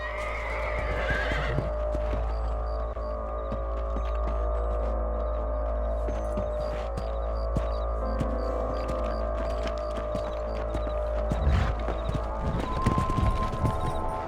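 Horses trot in the Red Dead Redemption video game. Steady hoof clip-clops and an occasional whinny run continuously over a low hum, with no speech.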